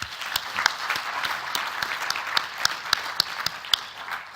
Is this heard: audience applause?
yes